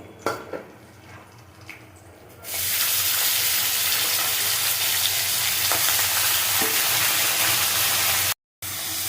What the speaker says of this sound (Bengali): মশলা ভাজা ভাজা হয়ে গেছে এবার দিয়ে দেবো আমি ভেটকুলের ডাটিগুলো